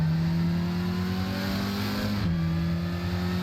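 A Porsche 924 race car with a 2-liter four-cylinder engine holds a steady, loud drone that climbs slightly in pitch, then drops abruptly as if shifting gear before holding again, with no talk.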